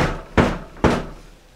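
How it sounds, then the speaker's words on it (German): Two sharp, loud knocks on a door about half a second apart, each with a quick decay and quiet in between. "es klopft an der Tür."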